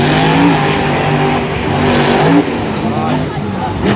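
Grave Digger monster truck engine revving loud and continuous at a Monster Jam arena show in Philadelphia, with a steady roar and a brief surge, under an excited commentator's voice.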